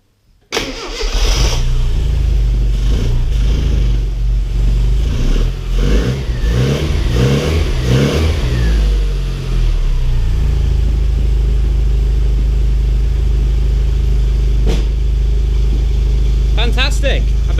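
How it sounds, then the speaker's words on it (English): A car engine is started using the choke: a brief cranking whirr catches into a loud, rough run with several rising revs, then settles to a steady low idle while a voice speaks briefly over it near the end. "the engine sounds pretty good, runs well"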